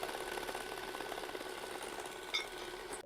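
Electric mixer beating egg yolks with sugar for tiramisu, a steady buzzing whir running continuously at a fairly quiet level, with a brief clink near the end and no talking.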